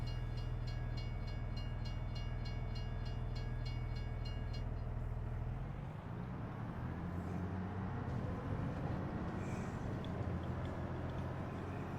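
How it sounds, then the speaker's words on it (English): A train rolls past in the Farming Simulator game on a Carpathian farm map, a loud, steady rumble with a humming tone that shifts and roughens about halfway through as the cars clatter by, with no talking. "Train going by."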